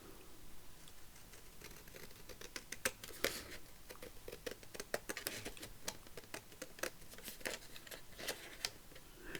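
Scissors snip out a paper tag for a Tim Holtz style accordion craft book, giving quiet, close, irregular crisp cuts and rustles in a soft, continuous patter.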